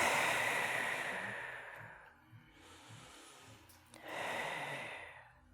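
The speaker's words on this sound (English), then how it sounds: "Take a couple more deep breaths." Slow, deep breaths during a seated yoga session for breast cancer recovery, a long airy exhale followed by a quiet pause and another swelling breath, close and alone.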